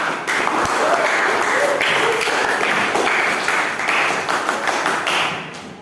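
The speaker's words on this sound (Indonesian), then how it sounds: "Tepuk tangan dulu buat kalian semua" Classroom applause for student groups who have just finished presenting, a steady wash of many hands clapping together for several seconds before tapering off near the end.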